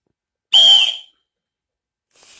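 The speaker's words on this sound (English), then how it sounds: "is probably one of the loudest whistles I've ever heard" A loud aluminum survival whistle gives one piercing, shrill blast of about half a second, close and strong, followed by silence. A faint hiss comes in near the end.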